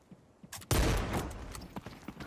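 A gunshot from a bolt-action rifle in the shooter game The Cycle Frontier. One loud, sharp report fires after a few faint clicks and leaves a lingering echoing tail, with some light rustling afterward.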